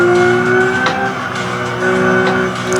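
Race car engine in a sim racing game taken flat through Eau Rouge in third gear, a loud steady high-pitched drone with a brief dip and upshift midway, tyre scrub faintly underneath.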